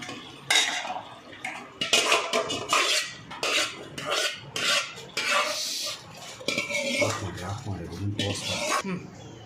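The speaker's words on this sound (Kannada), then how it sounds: "ಬೆಂದಿರೋಂತಹ ಬೇಳೆ, ತರಕಾರಿ ಎಲ್ಲವನ್ನು ಈ ಒಗ್ಗರಣೆಯಲ್ಲಿ ಮಿಕ್ಸ್ ಮಾಡ್ಕೊತಾ ಇದ್ದೀವಿ" A spoon scrapes and clatters in a pot as cooked toor dal, vegetables and peas are stirred into a tempering for bisi bele bath, a close run of rhythmic scraping strokes with a brief low hum near the end.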